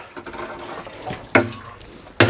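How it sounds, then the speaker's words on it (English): Water from a garden hose splashing and running into a high tunnel on a homestead, a soft uneven gush with a couple of sudden louder bursts, heard close by. "Cool, so we've got water."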